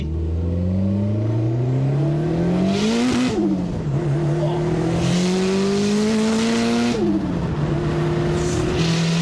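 A 500 bhp Cosworth car engine revs hard, climbing and dropping in pitch through several gear changes, loud and close, with a throaty roar and no talking.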